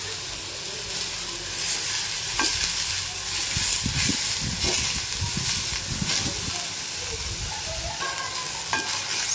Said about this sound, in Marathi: साधारण दोन ते तीन मिनटं मी गवार छान परतून घेतलेली आहे